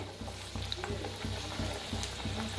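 Chakli dough spirals frying in hot oil give a steady close sizzle with a soft regular ticking pulse running through it, unbroken and alone without any voices.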